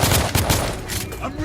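Gunfire in The Order: 1886, a loud close burst of rapid repeated shots that fills the whole moment with a dense, crackling barrage.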